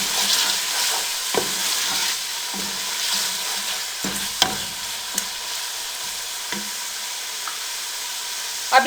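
Ginger garlic paste frying with mutton in a pot for a deghi qorma, a steady close sizzle with occasional scraping stirs and small pops throughout, no talking.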